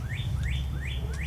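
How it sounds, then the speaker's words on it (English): Birds chirping outdoors in a yard on a spring day, four clear rising tweets repeated evenly over a low steady rumble of background noise. "You can hear the birds chirping."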